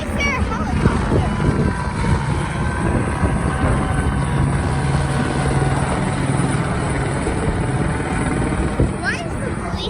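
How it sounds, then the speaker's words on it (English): A police helicopter circles overhead above Griffith Park in Los Angeles, near the Hollywood sign, its steady rotor drone hanging in the background while people talk outdoors. "Why is there a helicopter?"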